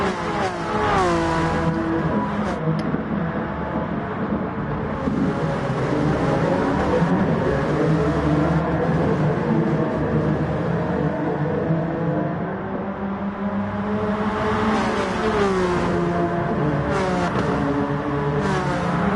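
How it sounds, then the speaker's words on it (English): Honda NSX Gr.3 race car engine lapping Suzuka Circuit in a racing video game, a loud continuous howl repeatedly rising and dropping through gear changes, with brief tire squeal. "This is a great sounding car."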